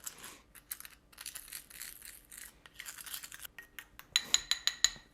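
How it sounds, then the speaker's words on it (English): Saffron threads ground with sugar, close gritty scraping and crunching strokes in uneven bursts, ending with a few sharper clinks. "we're just gonna mix this together to make a little bit of a saffron mixture. We're gonna grind this up"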